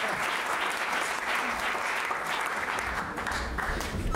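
Studio audience on a French television show applauding a guest, loud, full and continuous clapping from a crowd with no one speaking over it.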